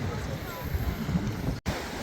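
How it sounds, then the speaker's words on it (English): Ocean surf at Playa Porto Marie beach on Curacao, a steady broadband wash of waves with wind, continuous and fairly close, with a brief dropout to near silence about three quarters of the way through. "I'll share you some ocean clips"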